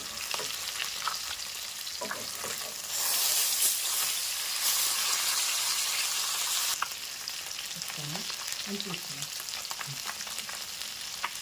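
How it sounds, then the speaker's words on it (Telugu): Pieces of rui fish fry in hot oil in a pan, making a continuous crackling sizzle that swells louder for a few seconds and then settles back. Light stirring and utensil sounds come through near the end, and no one speaks. "ఇదో బాగా ఎర్రగా ఏగాలి ఎర్రగా ఏగాల వేగిన తర్వాతనో"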